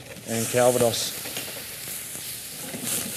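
White wine and Calvados poured into a hot pan over gas flames aboard Queen Mary 2, a steady sizzle and hiss running beneath a brief burst of voice.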